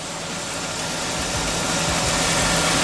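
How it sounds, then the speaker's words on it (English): A BMW 5 Series idles steadily after a fuel filter replacement, its mid-pitched engine hum and light vibration running close and continuous with no other sounds. "You see, the car is running, and there's no leaks coming from the back"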